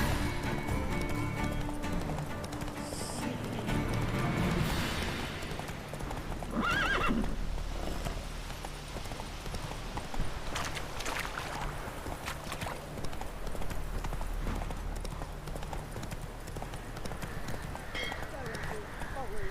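Roach the horse gallops in a video game with rapid, continuous hoofbeats and an occasional whinny, while people talk over the running throughout.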